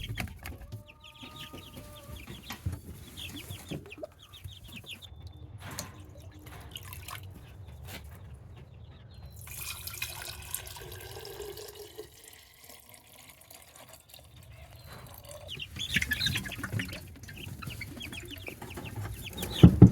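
Young chicks cluck and peep repeatedly while being fed crumble feed, with light dripping and tapping sounds scattered throughout at close range.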